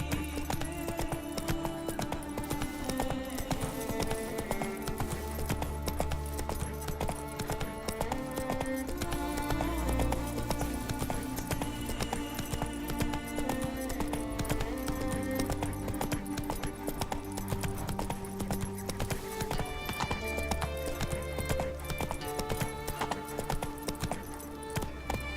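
Horse galloping in The Witcher 3 video game, a steady rhythmic clip-clop of hooves running through the whole stretch over game music, with an occasional snort.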